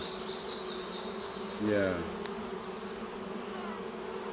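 Bees buzz steadily around an open top bar hive, a close, continuous drone with individual insects whining past, while a person briefly speaks over it.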